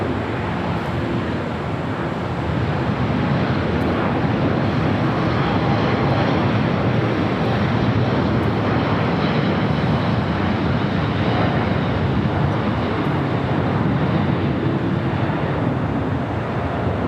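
A plane rolling down runway 25 right at LAX, its engines producing a loud, continuous broadband roar that stays strong and steady from start to finish, with wind buffeting and no talk.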